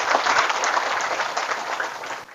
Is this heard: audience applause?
yes